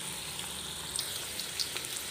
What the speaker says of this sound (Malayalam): ഇനി നമുക്ക് ഇത് ഓരോന്നായിട്ടെടുത്ത് ഇതിലേക്ക് ഇട്ട് വറുത്ത് കോരാം.